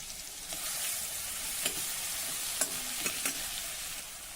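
Kharda chili paste sautés in hot oil, a steady, even sizzle throughout with a handful of short scraping stirs of a spatula against the pan, no voices.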